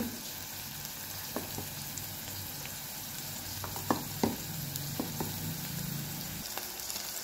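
Curry leaves and ginger-garlic paste sizzling in hot oil for aloo kurma, a steady low frying hiss with a few sharp pops and spoon taps, close and even, without speech.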